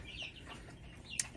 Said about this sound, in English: That's who you hear in the background, actually, are my 12 baby chicks.